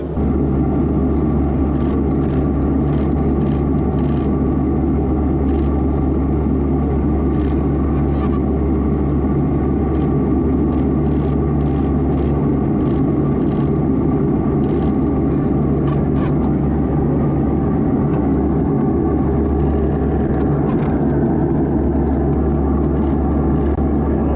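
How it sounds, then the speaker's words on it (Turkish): A loud, steady engine drone from an AN-32P firefighting aircraft fighting a forest fire in Manavgat rumbles without a break from start to finish, with a faint higher whine riding on top. "Tam alevlerin üzerine uçak şu an suyu bıraktı."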